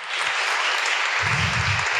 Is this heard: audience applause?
yes